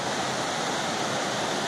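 Kuang Si waterfall in Laos, a steady broadband rush of falling water that is close and continuous, heard alone with no voices.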